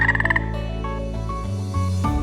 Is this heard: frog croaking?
yes